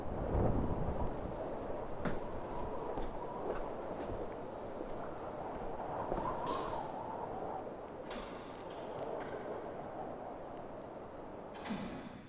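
Cold, stormy weather rumbles and roars outside an old churchyard with table graves, a steady broadband wash of wind and distant thunder-like rumble running throughout, with a few brief louder gusts.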